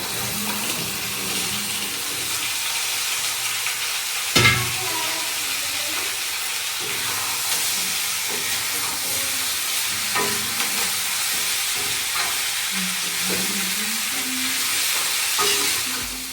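Spices with salt and turmeric sizzle steadily in a hot pan while cooking for cauliflower fara, a continuous frying hiss with occasional stirring clinks and one sharp knock partway through.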